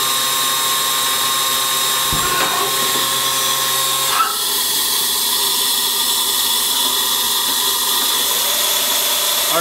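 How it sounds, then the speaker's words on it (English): A Tsugami S20D CNC Swiss lathe runs with live tools spinning around 2500 RPM and the sub-spindle at 3500 RPM, giving a loud continuous high-pitched whine with steady machine hum and a brief pitch shift midway. "RPMs are running at about this, you can see the live tools we're running."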